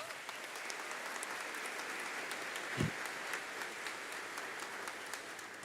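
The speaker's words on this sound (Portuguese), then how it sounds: "Você pode dar uma salva de palmas." A church congregation applauding, a continuous wash of many hands clapping, moderately distant and fairly faint, with a brief low thump partway through.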